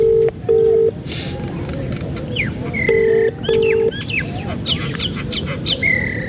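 A phone on speakerphone gives out a series of short, loud dialing beeps in uneven groups, with birds calling in the background.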